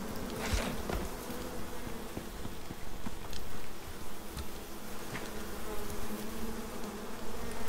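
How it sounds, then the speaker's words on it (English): Bees swarming in the survival video game Icarus, a steady insect buzz with close passes that swell and fade over continuous droning, heard alone without talk. "Wow, am I going to get killed by bees?"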